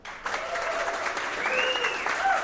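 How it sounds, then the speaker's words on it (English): A live podcast audience in Portland breaks into applause, a crowd clapping steadily and fairly close, with faint whistles and voices rising briefly above the clapping. "Round of applause."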